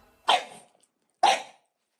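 A dog gives two short, sharp barks about a second apart, close and loud, with silence between and no talking.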